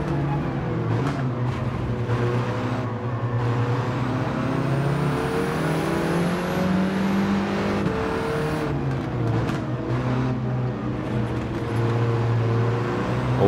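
A Porsche engine droning steadily in a racing video game, its pitch shifting with the revs, while other cars whoosh by faintly in the background.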